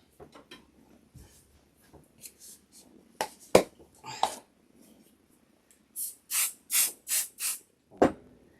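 Several short, sharp hissing sprays from an aerosol can of basting adhesive onto fabric in quick succession, close by, after some quiet handling noises.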